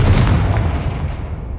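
Confringo blasting spell explosion in Hogwarts Legacy: one loud, close boom with a heavy low rumble that decays smoothly over about a second and a half, with no voices.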